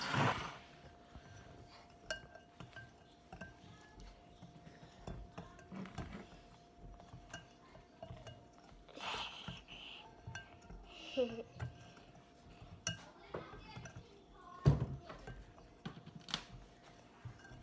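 A spoon stirs sourdough starter in a container, making faint, irregular clinks and scrapes. A few soft knocks stand out against quiet room noise.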